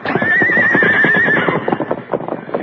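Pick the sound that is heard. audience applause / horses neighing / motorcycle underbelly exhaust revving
horses neighing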